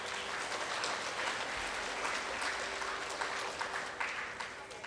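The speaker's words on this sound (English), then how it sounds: "So a big round of applause to all the parents here." Sustained applause for the parents at a school event, an even crowd clapping throughout with a faint voice underneath.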